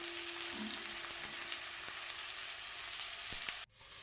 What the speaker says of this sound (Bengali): পেঁয়াজটা এদিকে লাল করে ভাজা হতে হতে